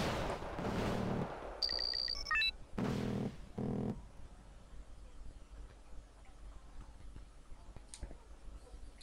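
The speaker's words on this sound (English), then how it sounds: "And later this area gets shelled by artillery." Artillery shells pound an area in the Wargame: Red Dragon war game, set in a city in Japan. Heavy broadband blasts come in two loud clusters early on, broken by a brief electronic tone, then fade to a low rumbling background.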